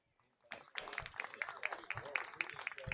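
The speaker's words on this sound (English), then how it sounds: "So please give them a round of applause." Crowd at a high school football game between St. Ansgar and Newman Catholic clapping for youth flag football volunteers, a steady patter of many hands starting after a brief quiet and continuing throughout, with voices mixed in.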